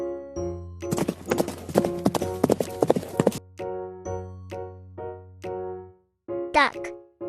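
Horse hooves clip-clop in a quick, steady run of sharp, close strikes. A long low hum lies beneath them, and a short burst like a whinny comes near the end.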